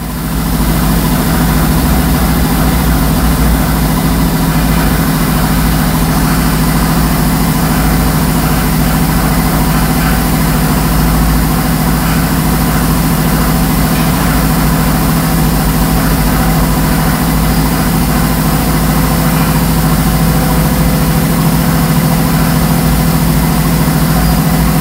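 A Nissan Altima with a P0101 code idles close and loud, a constant low rumble with steady vibration throughout and no speech.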